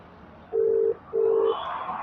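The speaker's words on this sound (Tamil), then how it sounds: "நான் அவனுக்கு கால் பண்ணிக்கிறேன்" A phone ringback tone sounds twice during an outgoing call, each a steady electronic tone lasting about half a second with a short gap between. It is clear and close against quiet background noise.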